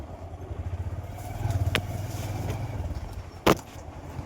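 Local people's vehicles drive along a rough, badly broken jungle track, giving a low, steady engine drone with pulsing rises and a couple of sharp clattering knocks. No voices are heard.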